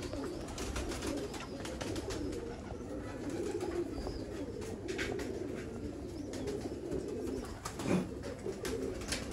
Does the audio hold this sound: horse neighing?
no